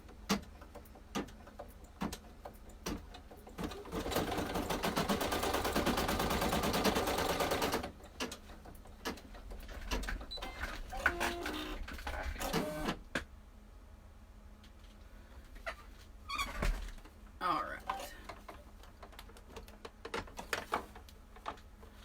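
An embroidery machine tacks down fabric for a zippered key fob, with a dense burst of rapid stitching followed by scattered clicks and short mechanical runs, close and moderately loud.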